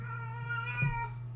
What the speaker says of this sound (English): Y'all hear that cat?